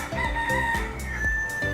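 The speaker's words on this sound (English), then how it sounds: "This is what we're taught as kids, that the cock crows at sunrise." A rooster crows repeatedly in a single close, loud call with a long drawn-out tone, heard alone without any talk over it.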